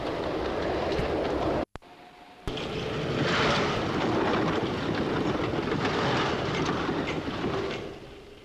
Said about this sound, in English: the trains change the signals from all clear to danger as they pass by